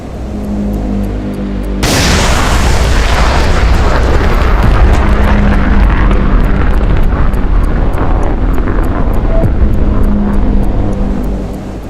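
An F-16 jet roars in loudly at about two seconds and holds a steady, powerful engine rumble while flying low between trees in a video game.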